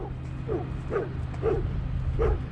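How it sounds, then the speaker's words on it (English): A dog barks at cows trespassing onto farm property, giving four short, evenly spaced woofs close by over a steady low rumble of outdoor background noise. "That's right, Lizzie, this is when you bark"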